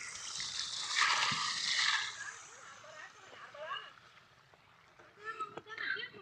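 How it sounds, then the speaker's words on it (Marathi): Irrigation water running and trickling outdoors through an onion field, a steady wash of flow with a few small splashes, fairly close. "इथं पाणी चाललंय कांद्याला"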